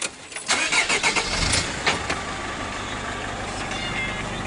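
A Mercedes Sprinter van engine cranks and catches with a loud start, then settles into a steady, even idle close by.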